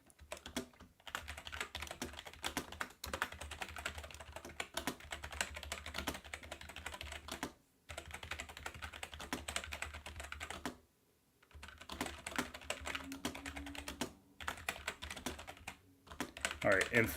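Rapid clattering keystrokes on a computer keyboard come in steady bursts with brief pauses, fairly close and quiet, with no talk over them.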